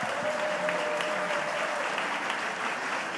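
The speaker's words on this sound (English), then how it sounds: "Can I have another round of applause?" Steady, even applause from a large audience at the official opening plenary of the UN Environment Assembly (UNEA 4), continuous and moderately loud with no break.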